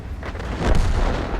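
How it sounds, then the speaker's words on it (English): Artillery shells pound tanks in a tank battle video game, heard as a loud, sustained rumbling blast that swells midway and keeps rolling, with no voices. "The arty is just pounding us."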